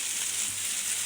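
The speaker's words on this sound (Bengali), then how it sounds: "এই যে একদম ভাজা ভাজা করে নিচ্ছি," Taro (kochu) frying in oil in a pan, a steady soft hiss of sizzling throughout the short moment, fairly quiet and with no voices.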